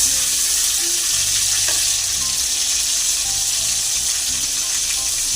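Oil left over from frying chicken sizzles loudly and continuously in a kadai, a close, steady crackling hiss with faint stirring noises.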